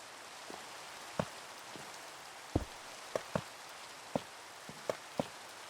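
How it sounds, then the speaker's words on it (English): Rain falls steadily in a Minecraft flower forest cottage scene, a soft continuous hiss with scattered sharper drips and taps striking near, fairly quiet, with no voices. "I feel like I'm always constantly getting rain"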